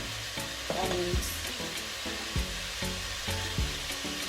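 Beef for stew sizzles and fries steadily in a pan, a constant crackling hiss broken by occasional stirring scrapes, close and moderately loud with no talking.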